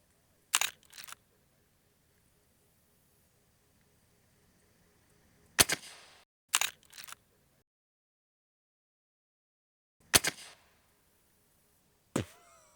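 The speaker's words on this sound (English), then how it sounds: "we're shooting the Lonestar Warden 46. This is a welded baffle can, 46 cal. We have it on a Marlin 45-70." Suppressed Marlin 45-70 lever rifle with a Lonestar Warden 46 welded-baffle silencer firing Hornady subsonic ammo: five muffled sharp cracks with mechanical clatter, spaced irregularly across long silent gaps.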